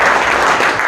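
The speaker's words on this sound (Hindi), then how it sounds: "ताली तो बजा दीजिए एक" An audience at a motivational talk breaks into steady, loud applause, a dense continuous wash of many hands clapping with no voices on top.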